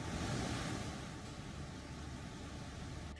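The flooded Parvati river surges past the Manikaran Gurudwara in Himachal Pradesh during heavy monsoon rain, a loud, steady broadband roar of rushing water with no voices.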